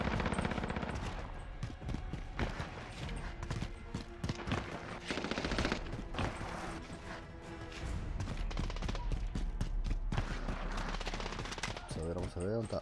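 Sustained automatic AKM rifle fire from the Call of Duty Black Ops Cold War video game, loud and dense bursts rattling almost continuously, with occasional in-game voice over the shooting.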